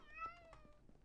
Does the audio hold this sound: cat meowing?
yes